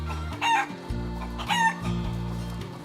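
Chickens at a backyard coop cluck while a rooster crows twice, each crow a loud, drawn-out call rising over steady, close clucking with no talk.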